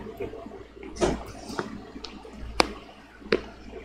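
Water splashes in the Roblox game Avatar: Legend of Korra, a handful of irregular sloshes and drips, moderately close, with quieter splashy texture between them and no talk.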